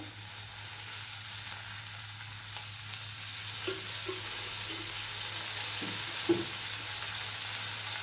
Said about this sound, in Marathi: हे छान हलवून घ्यायचं आपल्याला